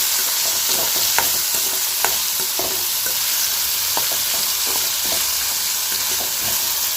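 Raw banana pieces are sautéed in a pan, with a steady loud sizzle and the continuous scrape of stirring throughout, no voice.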